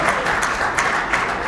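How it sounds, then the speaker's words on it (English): An audience applauds the Lion team with a dense, steady wash of clapping from many hands, loud and sustained, with no voices standing out. "please give a big round of applause for the Lion team"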